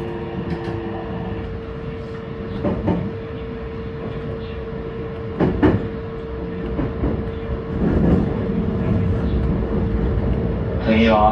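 A Meitetsu 2200 series electric train runs on rails, with a steady rumble and periodic clunks over the track, moderately loud and close, while an onboard announcement voice speaks over it.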